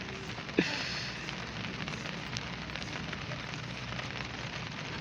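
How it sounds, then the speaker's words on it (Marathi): Heavy morning rain falls outdoors in a steady, dense broadband hiss that stays constant throughout, with one brief sharper knock near the start. "जोरात पाऊस लागला ना"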